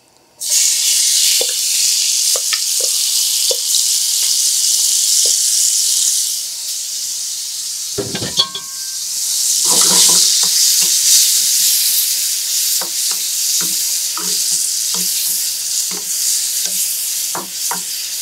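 Tomato tartlet mixture hits a hot pan and sizzles loudly, a sustained bright frying hiss that briefly dips and then surges again, scattered with small pops and stirring scrapes, close up with no talking.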